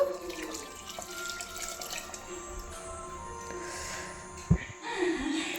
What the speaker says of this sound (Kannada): ನಿಮಗೆ ಸಾಂಬಾರು ಎಷ್ಟು ಬೇಕು ಅಷ್ಟು ನೀರನ್ನ ಆ್ಯಡ್ ಮಾಡ್ಕೋಬೇಕು.